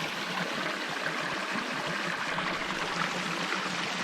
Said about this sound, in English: This little water crossing.